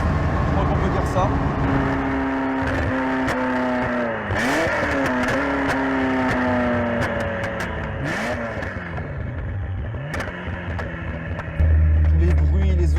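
A Ferrari F40 engine and exhaust roar steadily while the car drives, the pitch rising and dipping through gear changes, with a sudden low rumble near the end.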